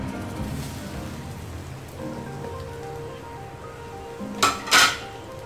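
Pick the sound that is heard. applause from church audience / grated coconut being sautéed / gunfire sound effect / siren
grated coconut being sautéed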